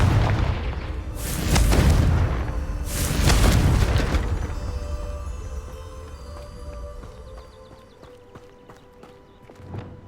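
Two big booming blasts from the Confringo fire spell in Hogwarts Legacy, loud and rumbling, each rolling out into a long decaying tail while faint metallic debris and chimes patter afterward; no voices.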